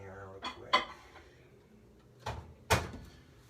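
A cheese-topped breakfast bacon burger is set into a microwave in a home kitchen, with a few sharp clattering knocks and a firm door thump near the end, all close by and separated by brief quiet.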